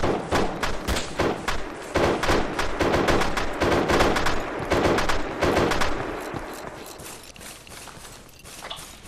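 Gunfire rattles through a combat operation in the military game Arma 3, with rapid bursts of loud close shots and thuds for several seconds before tapering into quieter, more distant fire.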